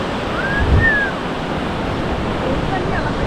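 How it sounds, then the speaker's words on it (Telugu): Ocean waves break on a beach at Gokarna where a river meets the sea, producing a loud, continuous washing roar close by, with wind buffeting and a faint voice briefly in the mix. "అక్కడికి మాత్రం బాగా వస్తున్నాయి అలలు."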